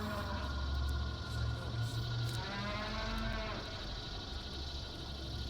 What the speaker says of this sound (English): Oh no, not the horrible mooing.